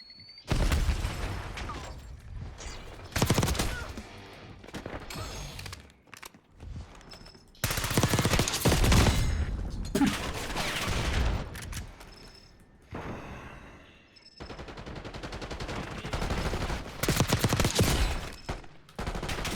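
Automatic gunfire from the video game Black Ops 6 rattles in loud sustained bursts with booms and pops, separated by brief lulls, close and dominant throughout.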